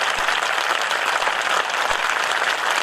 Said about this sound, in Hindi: मैं चाहता हूं कि इनके सम्मान में जोरदार हाथ ऊपर उठाकर 5 मिनट तक तालियों का शोर सुनना चाहता हूं।